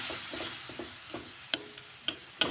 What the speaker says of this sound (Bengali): জল দিয়ে এখন মশলা ভালো করে কষিয়ে নেব